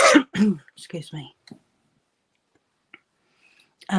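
A person clears their throat and coughs a few times close by, then falls quiet before another short throat noise at the end.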